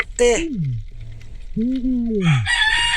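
Loud, nearby chicken calls, two drawn-out squawking cries with a pause between, followed by a burst of sharper scratchy noise.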